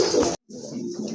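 A male pigeon cooing up close in two short bursts separated by a brief silent gap, the second a longer throaty rolling coo.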